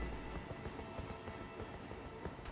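Steady, rhythmic hoofbeats of a galloping horse in the Elden Ring video game, a dense even clatter running throughout at a moderate, slightly muffled level.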